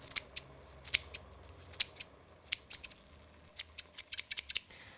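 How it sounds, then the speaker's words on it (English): Kitchen scissors snip fresh lime leaves into a Thai yellow pumpkin and seafood curry, with about a dozen crisp, close metallic cuts. The cuts come in uneven bursts, quickening into rapid clusters toward the end. "Lime leaves, just snip them in."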